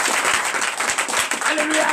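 A church congregation at a Sunday service in Bénin applauds for Jesus, with a steady wash of dense clapping and voices mixed throughout the brief burst.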